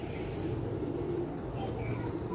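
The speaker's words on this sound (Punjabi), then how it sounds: "ਕਾਲੇ ਮੂੰਹ ਵਾਲੇ ਕਬੂਤਰ ਸਾਡੇ ਬਹੁਤ ਅੱਛੇ ਕਬੂਤਰ ਨੇ" Black-faced pigeons cooing in a steady low murmur, several birds overlapping continuously at moderate distance with faint background noise and no talk.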